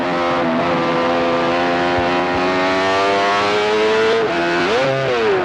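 A Benelli racing motorcycle on a TT lap, its engine howling loud and high as it revs steadily upward, then the pitch drops and jumps during a missed gear shift before climbing again.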